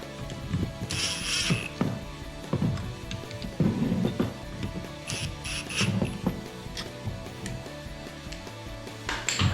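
A hand ratchet tightens the bolts on a Rugged Ridge Arcus front bumper fitted to a Jeep Gladiator JT. Repeated quick clicking strokes come in bursts, mixed with metallic clinks, all close up.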